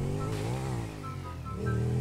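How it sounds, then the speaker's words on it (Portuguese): Motorcycle engine in GTA V, a steady close engine drone that dips and then swells again as it revs, heard alone with no talking. "Beleza, pegamos a moto aqui."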